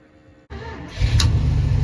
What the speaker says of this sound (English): That was one tap of the throttle.